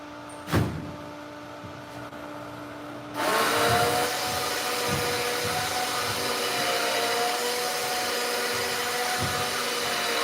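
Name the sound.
winch of an automatic lifting rug drying rack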